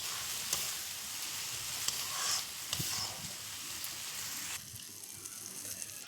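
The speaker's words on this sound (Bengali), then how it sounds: "ভালোভাবে কষিয়ে নিতে হবে। এই জলটা একদম শুকনো হয়ে যাবে আর মশলা থেকে তেল ছাড়বে" Spice masala fries in oil for a pangas fish and potato curry, giving a continuous close sizzle with a few light scraping stirs. The hiss softens near the end and no one speaks.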